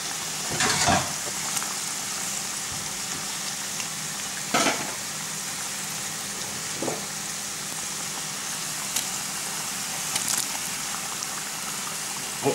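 Taco filling fries in a pan with a steady loud sizzle throughout, broken by a few sharp stirring clatters and spits, and no voices.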